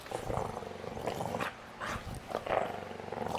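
A dog growls low and rough while ripping a toy apart, the tearing and snarling coming in close, uneven bursts with short pauses between.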